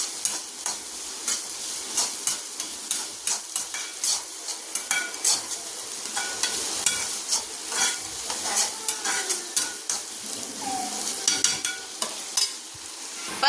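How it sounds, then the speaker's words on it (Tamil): Dried fish sizzles and fries in a pan, browning to golden while a utensil stirs and scrapes steadily against the metal, with no talking over the crackle. "நல்லா கோல்டன் ப்ரௌன் வர மாதிரி நம்ம நல்லா வதக்கி எடுத்துக்கணும்."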